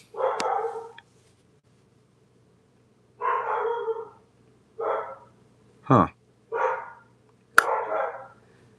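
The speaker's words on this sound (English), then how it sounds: "Yeah, they're very barky dogs." Dogs bark in short bursts some distance away, about six separate barks or clusters with quiet gaps between, clear over a faint steady hum, and one person briefly mutters.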